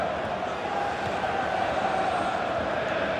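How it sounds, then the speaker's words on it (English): Steady stadium crowd noise from a FIFA 15 Premier League match between Arsenal and Liverpool, a continuous roar of cheering that holds at an even level throughout, with no talk over it. "And the crowd really enjoying it."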